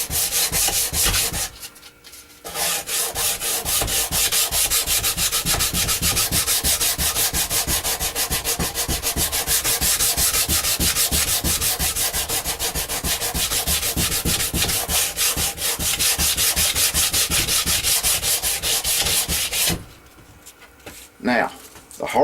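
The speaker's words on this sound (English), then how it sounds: "And you just take your sandpaper and just back and forth." Sandpaper with lubricant rubs back and forth along the spine of a handmade knife blade in steady, close, continuous strokes, with two short pauses and a brief stop near the end.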